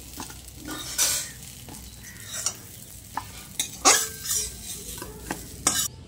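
Okra fried with gram flour in mustard oil is stirred in a pan, giving intermittent scraping and clattering strokes over a soft, steady sizzle, close and fairly loud, with no talk.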